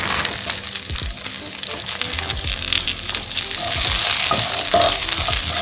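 Brussels sprouts sizzle and crackle in hot olive oil in a pot, with scraping stirs and clacks over a continuous close frying hiss that grows slightly louder toward the end.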